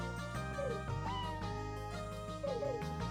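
Cat meow sound effect option in the Suikoden game plays over a busy musical background, with a couple of short, mid-loud meows woven into the tune.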